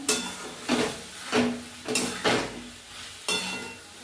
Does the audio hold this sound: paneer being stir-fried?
yes